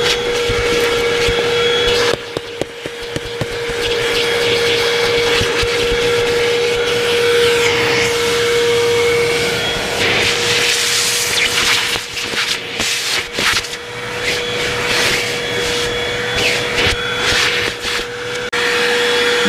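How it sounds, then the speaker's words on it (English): A Eureka 12 amp vacuum cleaner runs steadily and loudly while cleaning the floors of a 2015 Mazda CX-5 GT, its whine shifting slightly as the nozzle moves, with brief bumps and rattles. "I'm going to go ahead and vacuum all the floors up."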